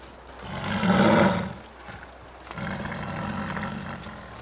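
Snow tigress roaring, two long, deep, rough roars one after the other, loud and close, with no voices.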